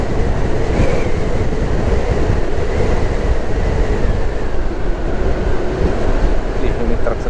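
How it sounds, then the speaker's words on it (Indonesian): A large truck overtakes on a coastal highway in Indonesia, its loud, steady roar of engine and tire noise filling the whole stretch without pause. "Ini truk segede itu nyalip."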